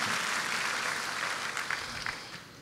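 Clapping fills a church during a sermon, a dense, fairly faint wash of applause from a congregation with a few sharper claps standing out before it tapers off.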